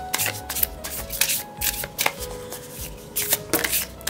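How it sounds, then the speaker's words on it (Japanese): Oracle cards shuffled by hand in quick, papery riffling bursts with soft taps and slaps between them, close and clear with no talking over it. "オラクルカードを引いて終わりたいと思います。"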